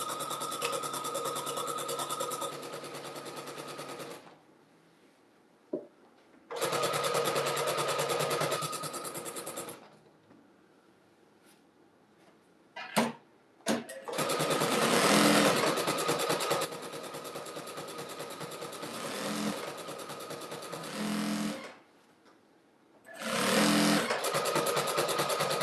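A sewing machine sews fabric strips onto a jelly roll rug in several long, close whirring runs, broken by short pauses and a few sharp handling clicks.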